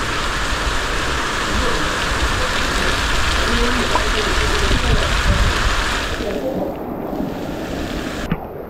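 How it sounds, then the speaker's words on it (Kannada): Heavy monsoon rain pours steadily around a homestay, a dense, continuous wash of loud rainfall that holds through the whole stretch and thins slightly toward the end. "ಮಳೆ ಅಂದರೆ ಮಳೆ"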